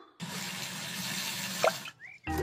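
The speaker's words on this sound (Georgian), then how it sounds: "მამა ღრუტომ მოიმარაგა თბილი წყალი მანქანის გასარეცხად." Warm water pours into a container for washing a car in a cartoon scene, a steady splashing fill lasting under two seconds before cutting off, followed by a short squeak and a brief low thump.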